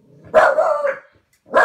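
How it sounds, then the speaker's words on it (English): Pet dogs bark loudly nearby indoors, one drawn-out bark followed by a short pause and another sharp bark. "just ignore the background. That's just my dogs."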